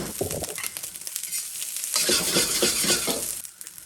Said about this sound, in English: Keep stir frying the rice.